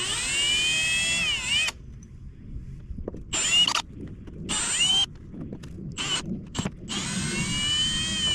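A power drill whines in short bursts removing screws from the weatherstripping seal of a Ford F-150, with several starts and stops and brief quiet gaps between runs.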